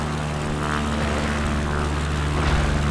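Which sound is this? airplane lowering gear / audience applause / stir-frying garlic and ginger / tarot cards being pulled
airplane lowering gear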